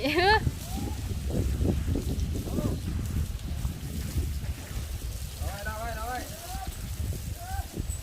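Wind blowing outdoors, buffeting the microphone in rough gusts while people talk and shout over it.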